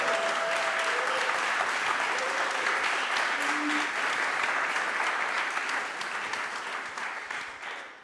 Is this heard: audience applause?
yes